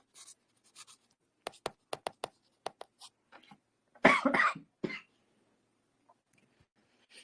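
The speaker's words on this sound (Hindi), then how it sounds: "बार बार मैं खांस रहा हूँ" A man who is unwell coughs in a short, loud burst of several harsh coughs, preceded by scattered scratchy writing or tapping sounds in a quiet indoor room.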